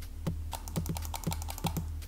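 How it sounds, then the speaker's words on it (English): Clicking from a cheap computer mouse with a double-click fault: a run of sharp, close clicks, several landing in quick pairs, alone against a steady low hum. "I have a mouse, a computer mouse, and the click of it does double clicking."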